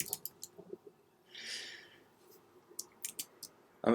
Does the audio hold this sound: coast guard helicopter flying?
no